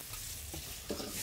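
Fried rice being stir-fried in a heavy Chinese wok at a Chinese restaurant, a faint continuous sizzle with scraping and tossing, brief and with no voices.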